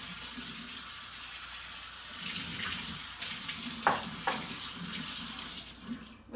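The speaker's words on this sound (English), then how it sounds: "take your sieve, rinse really well" Tap water runs steadily through a sieve to rinse grains or legumes for sprouting, a continuous close splashing stream with a couple of brief louder clatters near the end.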